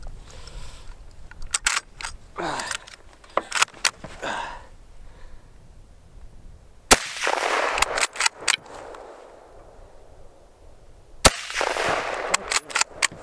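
A Mosin Nagant bolt-action rifle fires sharp, isolated shots outdoors, each crack trailed by a short rumbling echo, with bolt clatter and handling noise filling the gaps between shots.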